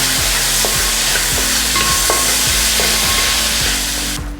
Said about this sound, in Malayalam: നമുക്കതിലേക്ക് 2 വലിയ ടൊമാറ്റോ കട്ട് ചെയ്തത് ആഡ് ചെയ്ത് കൊടുക്കാം. അത് നമുക്ക് നന്നായിട്ട് വഴറ്റിയെടുക്കാം.